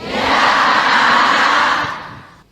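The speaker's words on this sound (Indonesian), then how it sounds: "Tepuk tangan buat bunda yang bertanya." An audience claps for a mother who asked a question at an Islamic religious lecture, a dense, steady wash of many hands that swells quickly, holds, then fades out.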